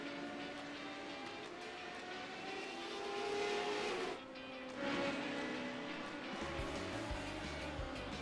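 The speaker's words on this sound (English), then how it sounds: "slow car on the surface here" Race car engine droning continuously through a sim racing game sprint event at Rudskogen, steady mid-level tone with pitch shifts as cars pass, louder swells around the middle and a deeper rumble toward the end.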